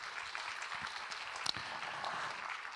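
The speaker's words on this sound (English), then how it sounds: "can we please have a big round of applause to the C Group?" Soft, distant applause from an audience at a group's tenth anniversary celebration, a steady patter of many hands clapping at low volume with one brief sharper clap standing out midway.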